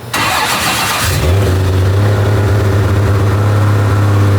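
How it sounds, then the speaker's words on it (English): A Ford Barra inline-six engine in a Mustang cranks and fires, then settles into a deep, steady, choppy idle with a low, even rumble. "I'm gonna start the car."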